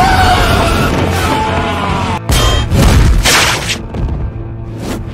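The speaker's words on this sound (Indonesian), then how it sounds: "terjadi sebuah ledakan" A loud, rumbling explosion at a petrol station bursts amid chaotic noise and shouting, with a deep boom followed by crashing debris.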